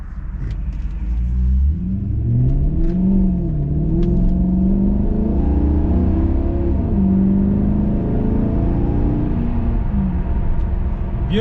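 A Maserati GranTurismo V8 revs close by, its loud engine note rising and falling in sweeping swells over a steady low rumble, with no talk throughout.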